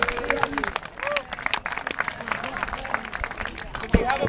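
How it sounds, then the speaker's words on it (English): An audience claps in steady applause at a lively comedy performance, dense and continuous throughout with crowd murmur and voices mixed in. "Round of applause for Sophie."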